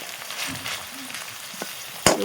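Potatoes frying in hot oil in an outdoor home kitchen, a steady soft sizzle with a few scattered crackles and a sharper pop near the end, no talk.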